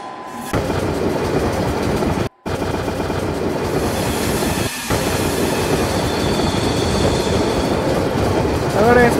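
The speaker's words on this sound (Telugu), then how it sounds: "ట్రాక్ సౌండ్ కూడా చాలా ఒరిజినల్గా ఉంది కదా" Simulated Indian train running at full speed on rails in a train simulator game, a steady loud rumble of wheels with clickety-clack and faint squeal, briefly cutting out twice, with a horn-like tone near the end.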